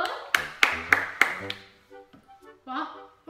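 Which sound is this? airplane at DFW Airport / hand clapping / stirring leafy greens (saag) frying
hand clapping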